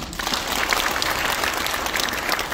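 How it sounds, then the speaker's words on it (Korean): Sustained applause from an audience after a lecture at a business seminar, dense steady clapping filling the room at even loudness throughout, with no voices standing out. "열정적으로 강의해 주신 고태호 사장님께 다시 한번 큰 박수 부탁드리겠습니다"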